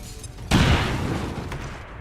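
Grenade explosions in the XCOM 2 video game: one loud, sudden boom with a low rumble that trails off over about a second and a half, with a fainter pop following.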